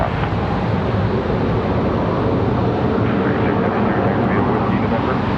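An airplane departs Charlotte Douglas International Airport with a loud, dense, continuous engine roar, accompanied by wind rumble on the microphone.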